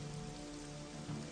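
Heavy rainstorm pouring down on farmland, a dense steady roar of rain with drops hitting the ground, continuous and fairly close, with no voices.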